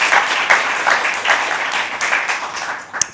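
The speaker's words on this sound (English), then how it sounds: "Let's give them a round of applause to encourage them." Applause from a conference audience welcoming panelists at a climate and development finance event, a steady wash of clapping filling the room for a few seconds with no voices over it.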